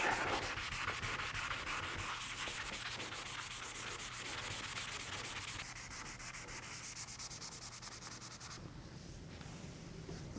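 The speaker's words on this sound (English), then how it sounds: "when we get up into this curved area, I'm gonna have to grab the sanding sponge" Steady, close rubbing of a sanding sponge over a curved BMW E46 body panel during paint prep, a continuous rhythmic scratchy hiss with no voices.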